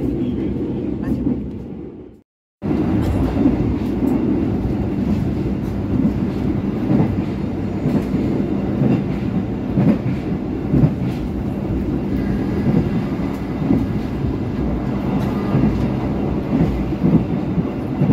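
Rumbling rail noise from the KA Harina economy premium train running from Surabaya, a steady clatter and roar on the tracks with a brief drop to near silence early on, heard from inside the carriage.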